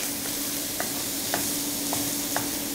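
Diced onions and garlic cloves fry in a cast-iron pan with a steady, close sizzle, while a few soft scraping stirs knock at irregular intervals.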